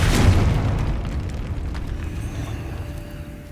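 Confringo fire spell exploding in the Hogwarts Legacy video game, a deep booming blast up close that rolls off into a long rumbling decay with no talk.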